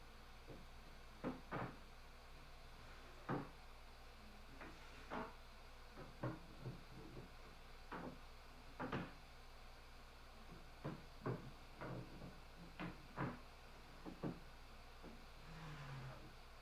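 Wooden doors on a George Nakashima–style sideboard are opened and closed again and again, giving a string of soft knocks, thumps and latch clicks at close range in a quiet shop.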